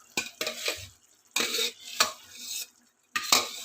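Boiled rice being tipped into a Hyderabadi biryani pot, heard as three separate bursts of scraping, clattering spoon-and-pot noise, close and fairly loud, with quiet gaps between.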